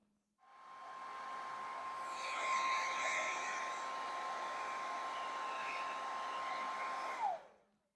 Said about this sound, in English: After drying that off pretty well with a hair dryer